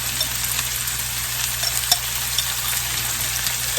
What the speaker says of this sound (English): let's put a little garlic in there with it